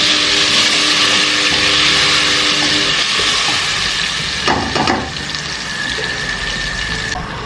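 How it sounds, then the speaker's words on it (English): Peppermint leaves fry in a pot with salt and seasoning cubes, giving a steady close sizzle, with a couple of brief clatters partway through. "So I will just cover and allow this to fry before I add my tomatoes."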